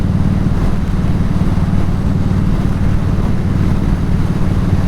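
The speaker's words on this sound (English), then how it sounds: "I really like the amount of wind coming through this helmet when the vent is open" Steady wind roars through the open vents of a Shoei Neotec 2 motorcycle helmet, a loud, constant low rush with no talking.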